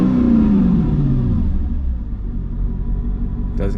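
The engine of an M113 armored personnel carrier running rich rumbles close by, a brief rev pitch dropping away into a steady heavy idle, with a faint click near the end.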